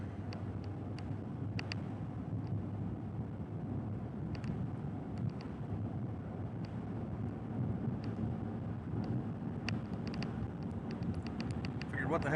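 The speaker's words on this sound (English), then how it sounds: "There's thunderstorms." Low thunder rumbling during a Central Texas severe thunderstorm, a dull continuous roll mixed with wind buffeting the microphone, with scattered clicks and no clear voices.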